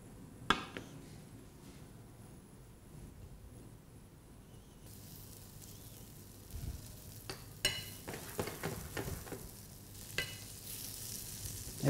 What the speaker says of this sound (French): nous allons passer au beurre les têtes d'asperges que nous avons blanchies tout à l'heure